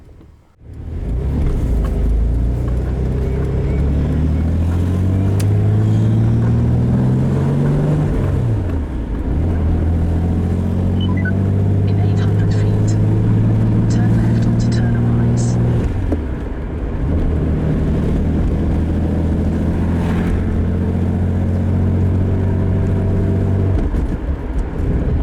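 A Reliant Scimitar out on a test drive, its engine loud and close, revving up through the gears in rising sweeps, dropping back at each shift and then climbing again.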